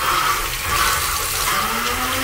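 Water drains through a strainer from freshly washed food, a loud, continuous pouring and gushing rush that lasts the whole moment without any speech.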